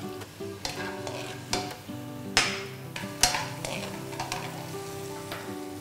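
White wine hits sautéing vegetables in a frying pan for a squid carbonara with salted egg, a steady close crackling sizzle with intermittent stirring scrapes and clinks.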